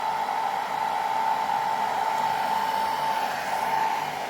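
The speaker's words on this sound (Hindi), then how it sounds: "ड्रायर को कम्प्लीटली ब्रश पे ना रखें, 1 इंच की दूरी रखें।" A handheld blow dryer blows onto hair held over a round brush, giving a loud, close, unbroken whoosh with a steady motor whine throughout.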